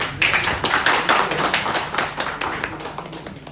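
A crowd at an anniversary gathering of a Nepali community association in Macau claps, a dense burst of applause that stays loud and then eases slightly toward the end.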